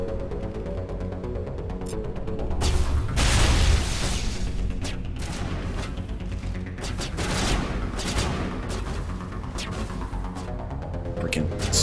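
Sniper and other gunfire in the Mass Effect video game, loud sharp shots and bursts cracking out in irregular clusters over a busy battle backdrop, with a player talking at times.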